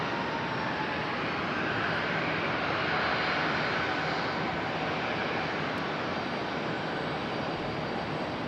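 A Lufthansa airliner moves at Charlotte airport with a steady, moderately loud engine rumble and whine that holds constant throughout, heard from some distance.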